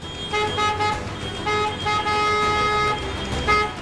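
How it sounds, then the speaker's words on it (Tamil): Dense city traffic in Chennai, with repeated car horns tooting and honking in short overlapping blasts over a steady rumble of engines and road noise, fairly close and busy. "மக்கள் தொகை ரொம்ப அதிகமா இருக்கிறதால கட்டுக்கடங்காத போக்குவரத்து நெரிசல் உண்டாகுது"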